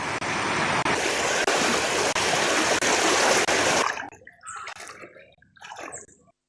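Floodwater rushes loudly through the submerged Samagi Mawata area in Katana amid rising water levels, a steady broadband roar for about four seconds before cutting to quieter, intermittent splashing.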